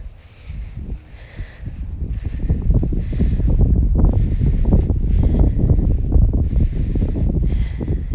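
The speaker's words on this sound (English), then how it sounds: "How's the wind? It's getting kind of windy." Outdoor wind buffeting a microphone, a loud, steady low rumble with gusty swells that builds after the first second and stays strong, with no talking.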